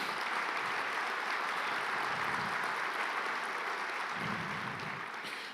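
A church congregation applauding steadily in a reverberant room, a dense wash of clapping that holds at a constant level throughout.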